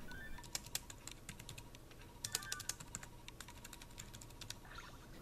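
Quiet, rapid typing on a pocket-size 1byone Bluetooth folding keyboard, a steady patter of light plastic key clicks with a few louder taps, close and alone.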